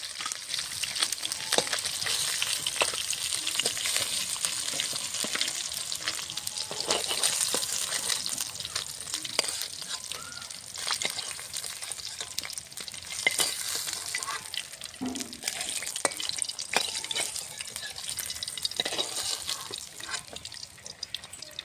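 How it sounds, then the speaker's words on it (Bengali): Rupchanda fish fries in hot oil with a continuous crackling sizzle, close and fairly loud, for over twenty seconds. Faint stirring scrapes and bubbling run through it, with no voices. "মাছটা লাল লাল করে মাছটা ভেজে নিয়েছি"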